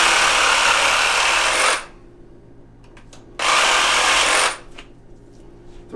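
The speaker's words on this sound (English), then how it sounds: "You don't have to use a Sawzall, but I like showing it off because it just makes everything so much easier." A reciprocating saw cuts through a deer spine, giving two loud, harsh buzzing bursts of about two seconds and one second, separated by a quieter pause.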